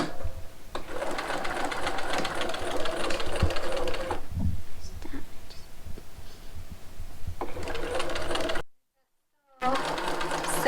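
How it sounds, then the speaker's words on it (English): Sewing machine stitching a pillow: a steady, buzzing motor whir in two long runs separated by a quieter pause with some clunks, close and loud, with a person talking over it. "you can sew and guide it into the line that you want it on"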